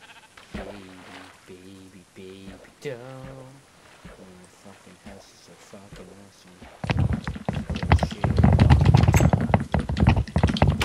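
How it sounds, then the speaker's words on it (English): Loud, rapid typing on a computer keyboard during a Minecraft session: dense clattering keystrokes rise sharply and continue to the end, after several seconds of voices. "Loud typing is loud"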